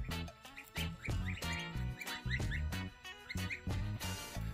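Goslings give rapid, high-pitched peeping calls in a quick, insistent rhythm, loud and close throughout.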